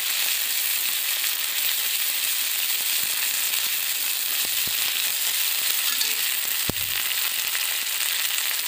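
Ginger fries in hot oil with a loud, steady, close hiss and a few sharp pops, and no voices are heard.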